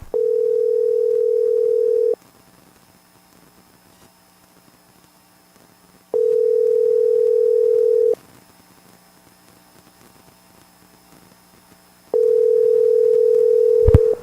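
A steady telephone ringback tone repeats in long, even pulses about two seconds on and four seconds off, loud and clean over a quiet line, three rings in all.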